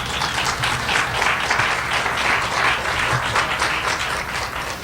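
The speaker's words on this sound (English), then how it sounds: "Let's give Thanks. him a big round of applause." An audience inside a tent gives a speaker a big round of applause. The clapping is dense and continuous for about five seconds at a moderate, even level.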